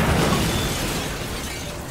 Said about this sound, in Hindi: तभी अचानक लोगों के सिर के ऊपर से एक हवाई जहाज गुजरा और जोरदार धमाका हुआ।